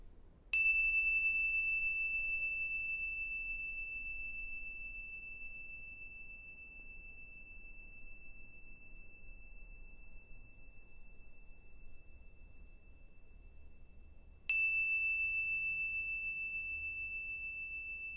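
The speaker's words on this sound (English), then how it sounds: "what we're going to listen to is the sound of the bell moving through time." A single bell struck once rings out with a clear sustained tone that slowly fades, then is struck again near the end and rings on in a quiet room.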